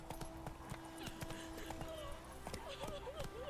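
Roach, a horse in The Witcher 3, gallops with steady, rhythmic clip-clop hoofbeats close by, the thuds repeating evenly throughout, with a brief whinny-like sound and someone speaking over them.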